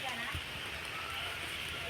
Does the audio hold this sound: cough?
no